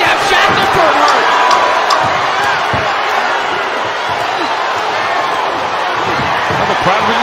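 A boxing crowd roars steadily through a live fight, a dense, loud wall of cheering with a commentator talking over it.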